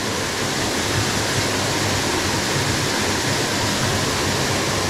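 Buderim Falls pouring as a dense, even roar of falling water, loud and constant across the whole stretch with no voices.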